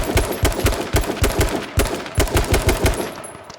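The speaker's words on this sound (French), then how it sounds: "Je vais essayer de lui mettre quelques balles au passage." Automatic gunfire in the battle-royale video game H1Z1 King of the Kill: rapid, evenly spaced bursts of loud shots crackling one after another with hardly a pause, with no talk over them.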